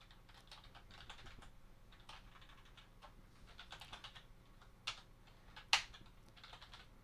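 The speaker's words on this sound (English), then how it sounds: "typing into a keyboard, all the clickety-clacks" A computer keyboard is typed on during a live podcast: quiet, irregular bursts of clicky keystrokes up close, with a couple of sharper, louder key strikes near the end and no talking over them.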